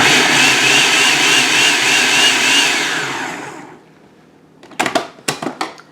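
An electric food chopper runs loudly and steadily while chopping onion for sweet pickle relish. It winds down after about three seconds, and a few sharp taps or pulses follow.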